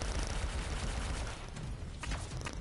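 Sniper gunfire in the video game Anthem, dense rumbling bursts of shots and explosions filling the mix, loud and continuous, easing slightly toward the end with a few sharper cracks.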